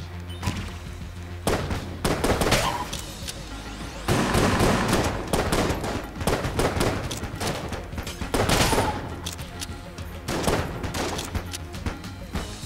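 The Phoenix weapon in the video game Enter the Gungeon fires in dense repeated bursts, rapid gunfire-like volleys with brief pauses between them, loud and close.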